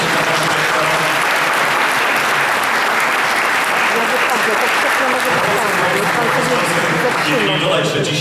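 A concert audience gives long, sustained applause that stays loud and dense from start to finish, with crowd voices mixed faintly underneath the clapping.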